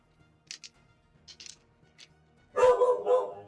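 A dog barks a few times in quick succession, loud and close, after several faint, brief clicks; the bark is not from a real dog.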